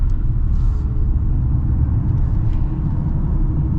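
Mercedes EQB 350 4MATIC electric SUV from 2022 accelerating, heard from inside as a steady, loud low road and motor rumble with a faint whir, no voices over it.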